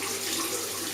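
Hot water runs steadily from a tap in a constant close rushing stream, with no other sounds.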